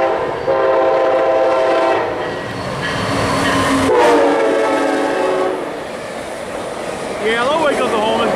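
An Amtrak Cascades passenger train rolls through Kent Station, a loud, sustained rumble with wheel clatter and a horn blast partway through, while people talk nearby.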